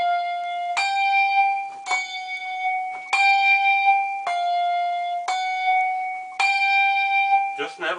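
Handbells ring one after another in a steady sequence of about seven clear struck tones, each sustaining and overlapping the next, close and bright.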